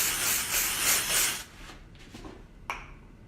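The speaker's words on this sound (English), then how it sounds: "Grab the texture spray." A sustained hissing of texture spray sprayed onto hair for about a second and a half, close by, followed by a few softer rustles and a sharp click.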